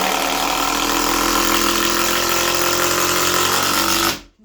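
A person imitates a motor engine with the voice, giving a steady, loud buzzing drone that runs without a break for about four seconds and then stops abruptly.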